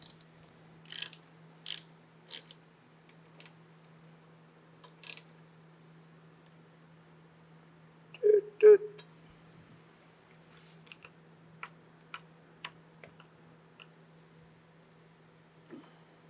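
Scattered sharp mechanical clicks and ratcheting ticks while an 8mm head screw is tightened on a mobility scooter's front rack, isolated snaps spaced irregularly over quiet with a faint steady hum underneath.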